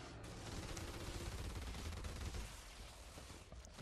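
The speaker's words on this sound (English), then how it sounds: "You just open fire like crazy." Dense, continuous bursts of automatic gunfire from the video game Call of Duty Extinction, several weapons firing at once in a sustained fusillade that eases slightly toward the end.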